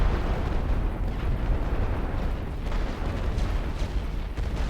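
Grenade blasts and battlefield explosions in the WWI strategy game The Great War: Western Front, a dense continuous rumble of booms and bursts with no clear gaps, loud and steady throughout.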